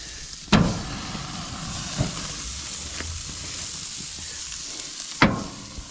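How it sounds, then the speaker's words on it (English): Steaks searing on a flaming grill give a steady sizzle and hiss throughout, with a loud flare-up burst at the start and another near the end, plus a few softer pops in between. "And the steaks are going on. We get some flames immediately."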